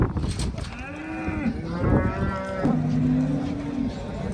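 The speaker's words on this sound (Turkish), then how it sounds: "Simentay orta kesimin bir tık altı küçük ufak yollu diyebileceğimiz bir inek" A Simmental cow at a livestock market moos twice in long, close, loud calls, with faint crowd sounds behind.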